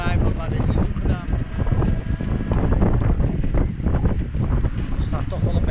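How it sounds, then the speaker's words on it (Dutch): Wind buffeting a microphone while cycling outdoors on a bright, slightly chilly spring day, a continuous low rumbling roar with gusty swells. "Er staat toch wel een beetje wind."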